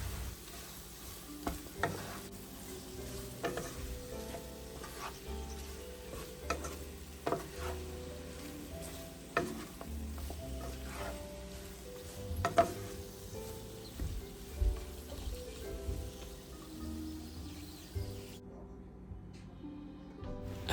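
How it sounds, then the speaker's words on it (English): Bell pepper and chicken gizzards sizzle in a pan as a spatula stirs them, giving repeated knocks and scrapes over a constant frying hiss, with soft music behind. "I'm just going to stir everything for about 2 to 3 minutes"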